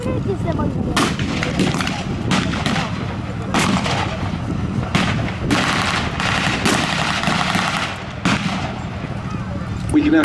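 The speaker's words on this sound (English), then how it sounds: "it sounds like a 30 cal heavy machine gun." A .30 cal heavy machine gun firing from a Jeep at a wartime reenactment event, with repeated rapid bursts over a busy outdoor background of battle noise, loud and close.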